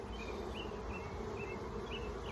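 Honey bees buzz steadily around hive frames during spring colony splitting, a dense, continuous droning swarm close by with no talk over it.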